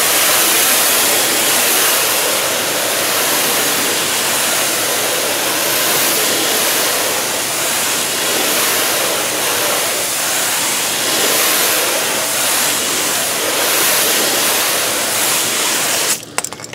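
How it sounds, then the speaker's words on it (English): A garden hose sprays water steadily to rinse a car after washing it with pH-neutral car soap. The loud, continuous hiss of the spray lasts the whole stretch and cuts off abruptly at the end. "But most people are just going to use a garden hose."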